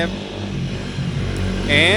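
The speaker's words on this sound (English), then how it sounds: "the motorcycle's driving by really fast" A motorcycle passes by fast, its engine roar rising and growing louder toward the end of the brief moment.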